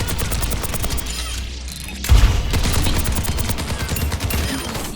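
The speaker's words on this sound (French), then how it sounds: "Maintenant, activez visière tactique et détruisez le robot d'entraînement" Rapid automatic rifle fire from Soldier 76 at a training robot in Overwatch 2, loud bursts of closely spaced shots with a heavy impact boom partway through and game music underneath.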